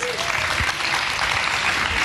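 Steady applause from a theatre audience greeting a dancer on a televised dance show stage, continuous brisk clapping at a constant loud level throughout the short stretch.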